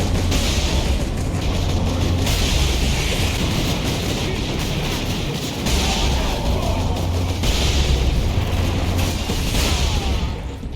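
Loud, dense las cannon fire in Warhammer 40K Space Marine, with repeated heavy booming blasts and a sustained buzzing, crackling roar, layered with continuous battle noise throughout.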